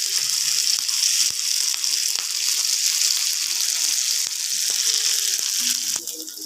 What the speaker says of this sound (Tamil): இப்போ இந்த மத்தி மீனை நம்ம தவா ஃப்ரை பண்ண போகிறோம்